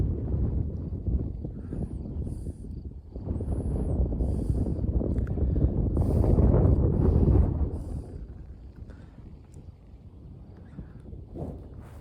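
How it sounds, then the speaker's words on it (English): Wind blows on a mountain road in strong, rumbling gusts against the microphone, swelling in the middle and then easing to a lower steady buffeting, with no talking. "And it's windy."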